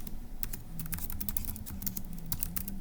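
Rapid keystrokes on a computer keyboard while filling in notes for a Turing Machine logic puzzle, a steady run of close, crisp clicks over a low background hum, with no one speaking.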